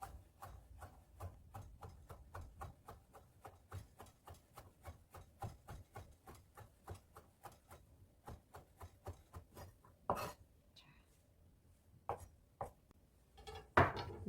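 A knife julienning cooked egg white on a cutting board makes quick, steady, evenly spaced taps close up, with a few louder strikes near the end.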